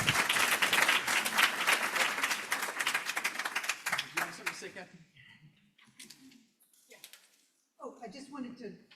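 A dense burst of audience applause welcoming a speaker rolls on for about five seconds, then thins to a few scattered claps before a voice starts talking.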